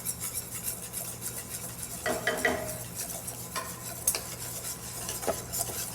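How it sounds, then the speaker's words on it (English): A whisk beats batter for shrimp in a bowl, fast rhythmic scraping and clicking against the sides with a few sharper knocks, fairly quiet over a low steady hum, no voices. "we'll whisk that together"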